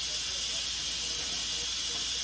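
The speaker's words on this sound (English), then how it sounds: "So I'm just going to let that quickly release as steam," A pressure cooker making beef stroganoff vents steam for quick release before the lid comes off, a loud, close, continuous hiss with no break.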